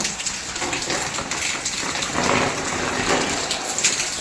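Morning rain falling outside, a continuous close hiss of rain on surfaces with a slight gush of runoff, steady and moderately loud, no talking.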